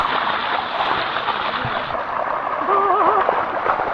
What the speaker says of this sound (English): And then the water is just flowing.